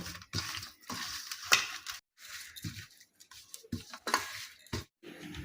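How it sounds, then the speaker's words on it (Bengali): Bare hands rub katla fish with salt and turmeric powder, making quiet, wet squelching and slapping sounds in short irregular bursts separated by brief pauses. "এবার আমি খুব ভালো করে মাছটাকে মাখিয়ে নেব"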